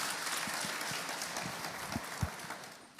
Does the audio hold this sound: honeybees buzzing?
no